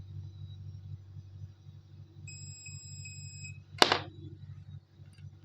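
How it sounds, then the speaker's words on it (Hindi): A multimeter gives a continuity-test beep while components such as resistors and diodes are checked, a steady electronic tone of about a second and a half over low background rumble, followed by a sharp click. "जब ये सही है तो मल्टीमीटर से एक बीप की आवाज़ आएगी"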